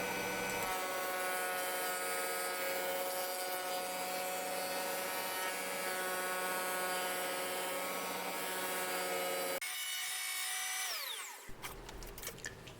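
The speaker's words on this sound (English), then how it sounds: "this time I've decided to do it on the table router and to try and make it a little bit straighter" A table router cutting slots in wood for wall shelves, a loud steady high-pitched whine with a droning motor tone that runs for about ten seconds, then the cut ends and the motor spins down.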